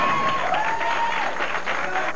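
Bowling-alley crowd applauding steadily throughout at a televised match in Cincinnati, Ohio, a dense, continuous patter of many hands.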